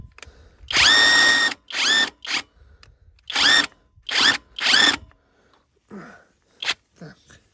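A Stromo AWA25 cordless impact wrench loosening a nut, heard as several loud, short hammering bursts of a few seconds each with brief pauses between them, followed by a couple of quieter, shorter bursts.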